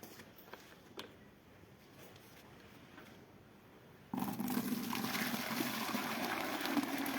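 Milk poured into a bucket on a scale, starting as a sudden, steady gushing rush after a few seconds of quiet background.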